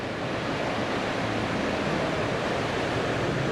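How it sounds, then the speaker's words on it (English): Continuous rushing water noise, a broad steady wash like surf or waves, even and unbroken with no talking. "Water lapping."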